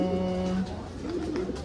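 Racing pigeons coo in low, steady, rolling tones close by, a continuous murmur with a faint voice in the background.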